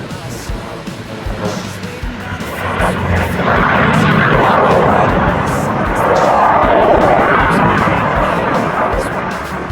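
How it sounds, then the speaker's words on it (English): Airplanes at the Pacific Air Show over Surfers Paradise beach, a rising, broad engine roar that swells twice as aircraft pass overhead, with crowd noise and speech-like voices mixed beneath. "The planes are still going crazy at the moment."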